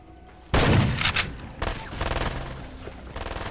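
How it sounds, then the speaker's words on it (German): Automatic weapon fire erupts suddenly in Far Cry 2: a loud, close burst of rapid shots, then further clattering volleys and scattered reports that keep going to the end. "Wie automatische Waffen."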